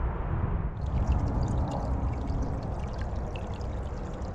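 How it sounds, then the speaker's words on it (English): Natural spring water trickling out of a mountainside at Cove Mountain Preserve, a steady close, continuous splashing flow with no talk over it. "Just found a natural spring here coming out of the mountain."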